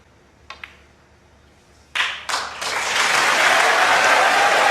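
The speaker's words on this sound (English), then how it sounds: "And they were clapping before the blue went in." A couple of sharp cue ball clicks on a snooker table are followed by audience applause swelling into sustained loud clapping at the Champion of Champions 2022 final between Ronnie O'Sullivan and Judd Trump.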